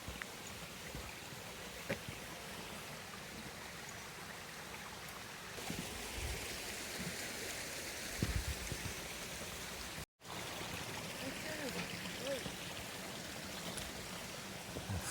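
River flowing beside a gate on a wooded path near Dinas Emrys in Wales: a quiet, continuous broadband rush of water, steady throughout with a few small bumps and a brief dropout.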